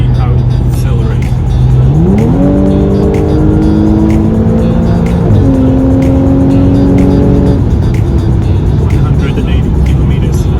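A 2013 Audi S5 engine in dynamic mode revs up hard, pitch climbing steadily through a gear change and rising again, loud and close over steady road rumble.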